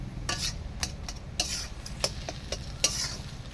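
Ash gourd (chal kumra) curry being stirred in a pot over a clay stove: a steady run of scraping, knocking spoon strokes against the pot, with a soft sizzle underneath and no talking.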